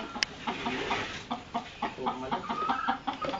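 Chickens cluck repeatedly nearby in short, uneven bursts, with one sharper squawk near the start and a faint murmur of farm background.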